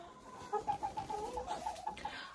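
Soft, quick clucking from an old hen nearby, a short run of murmured notes over a quiet background.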